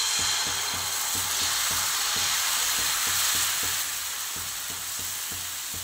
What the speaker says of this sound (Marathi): तर तवा छान तापल्याच्या नंतर आपल्याला बॅटर त्याच्यावरती टाकायचं आहे।